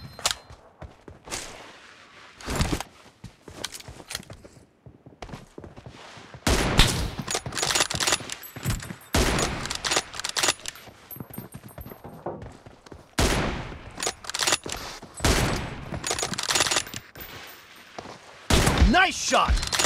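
Gunfire in a video game team deathmatch, bursts of loud sharp shots and rapid volleys separated by short quiet gaps, with some voices heard between them.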